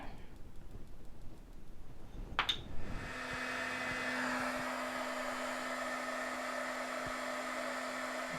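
A heat tool blows hot air to melt gold embossing powder on a card. A click comes first, then a steady, close, fan-like whir with a constant hum that runs to the end.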